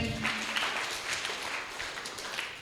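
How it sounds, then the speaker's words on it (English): A group applauds at a school abacus competition, steady scattered clapping throughout, fairly close, with no speech over it. "Give a big round of applause."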